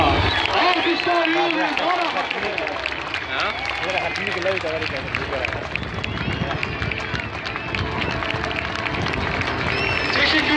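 A large outdoor crowd in Antalya claps and cheers for the Turkish Stars aerobatic air show, a dense continuous wash of applause with voices and chatter mixed throughout.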